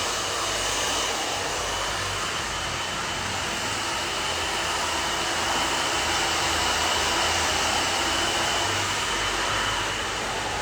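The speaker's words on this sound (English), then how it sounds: "We're just blow drying this stuff out of the way." A hair dryer blow-drying long layered hair during a haircut, a loud, steady, unbroken close-up whoosh of airflow and motor hum throughout.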